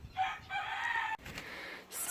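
A rooster crows loudly and close, a drawn-out call that breaks and continues, with another bird call starting at the end.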